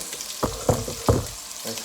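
Sausages sizzling in a pan for rougail saucisse, a low frying hiss broken by a few distinct knocks and scrapes as they are turned, close and moderately loud.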